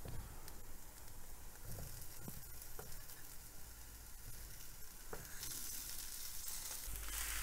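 Mashed potato sizzles and fries in a hot pan for a stuffed capsicum filling, a steady close crackle with occasional soft stirring clicks and scrapes, rising slightly louder toward the end.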